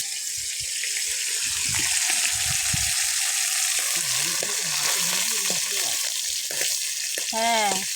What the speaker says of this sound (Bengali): একে একে এইভাবে প্রত্যেকটা মাছ ভালো করে ভেজে নেব।